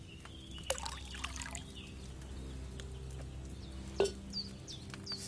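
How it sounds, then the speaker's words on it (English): Liquid base poured into a cauldron in the video game Kingdom Come Deliverance 2, a faint trickle with a few soft clinks over quiet ambience and distant bird calls. "you have to pour the right base into the cauldron"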